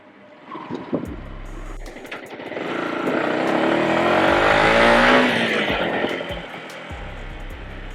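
Yamaha YZF R125 motorcycle engine heard while riding, a steady broadband roar that swells louder through the middle of the ride, then eases off, with wind noise and bumps underneath.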